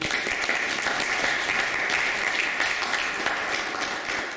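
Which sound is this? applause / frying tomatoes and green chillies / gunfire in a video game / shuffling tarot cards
applause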